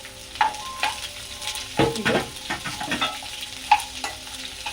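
Chopped bitter gourd fried in oil as a tempering, sizzling steadily with repeated spatula stirs and scrapes against the pan, close and clear, while a voice speaks briefly.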